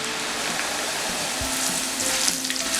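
Flattened rice (poha) frying in very hot oil in a kadai over a full gas flame, a steady close sizzle with stirring, no talk.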